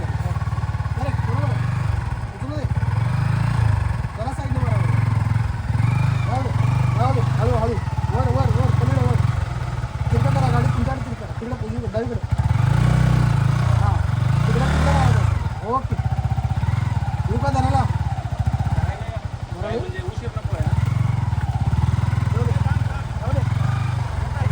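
A motorcycle engine runs loud and steady as the bike rides over a rough, difficult coastal road near Malvan and Devbag. Voices talk over the continuous drone.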